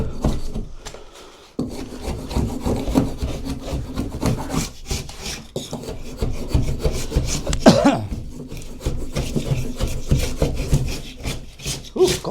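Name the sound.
stripping a wall by hand with elbow grease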